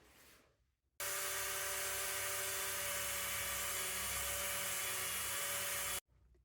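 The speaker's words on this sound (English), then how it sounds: "I've got some little polishing wheels, and I'm just going to polish round the bezel to remove any scratches" A small rotary polishing wheel works around a ring bezel, a steady high-pitched whirring drone that starts abruptly, runs about five seconds close and loud, then cuts off.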